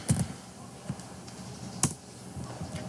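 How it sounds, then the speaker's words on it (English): A few scattered keystrokes sound on a computer keyboard, close and fairly quiet, with short gaps between the taps. "Let's type"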